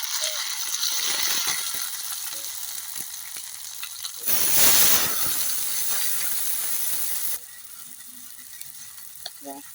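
Ginger, garlic and cumin paste dropped into browned onions in a hot pan for a pangas fish curry, raising a loud hissing sizzle with a sharp surge, then settling to quieter frying with occasional clicks.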